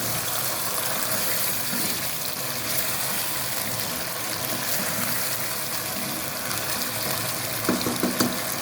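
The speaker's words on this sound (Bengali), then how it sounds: "এবার পানি দিয়ে দিচ্ছি" Water is poured into a pan of spiced chicken, a steady broadband gush and splash running throughout at moderate level, ending with a few small knocks.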